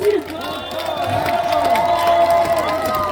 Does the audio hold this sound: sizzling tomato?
no